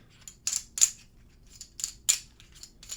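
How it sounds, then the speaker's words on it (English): Cardboard landmark tiles from the Cloudspire board game shuffled by hand at close range, giving several quick bursts of crisp rustling and clacking with short pauses between them and no talking. "Give them a shuffle."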